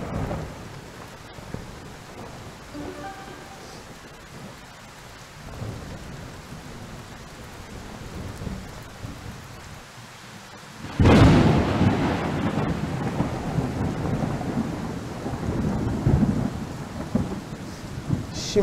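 Video game thunderstorm: rain patters steadily until a loud crack of thunder bursts in, followed by heavier rumbling rain that keeps going strong and close.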